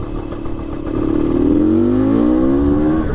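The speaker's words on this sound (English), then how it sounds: "Definitely the best running, riding, shifting Bultaco I've ever been on." A 1974 Bultaco Alpina 250cc motorcycle engine runs close by, its steady drone swelling and climbing in pitch as the throttle opens and the bike pulls hard, staying loud to the end.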